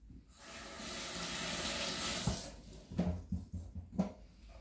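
A kitchen sink tap runs in a steady hissing stream, building in strength, then gives way to a few clattering splashes and knocks of dishes near the basin.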